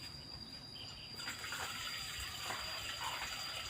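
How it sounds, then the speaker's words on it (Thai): Water gushes and splashes into a cooking pot for a Thai bamboo shoot and pork leg clear soup, starting faint and swelling into a steady, close pour partway through. "เติมน้ำเข้าไปเลย"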